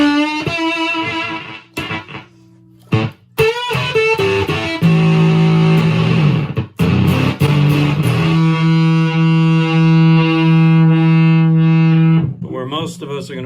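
A Wren and Cuff Custom Your Face fuzz pedal with a bias mod, played through guitar as sustained, heavily distorted chords and notes, with brief pauses and choppy stops between phrases.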